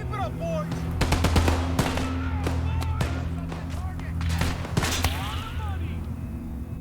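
Gunfire from the World War II game Gates of Hell: Liberation during an infantry fight on Hill 331, with rapid machine-gun bursts and single rifle cracks. Some shots are near and sharp, others farther off, over a low rumbling battlefield bed.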